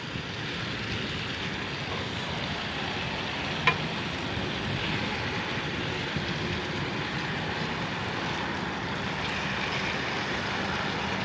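Bacon sizzles in a frying pan while cooking in a van by the river, a steady soft crackling hiss with one sharp pop, heard alone at moderate distance.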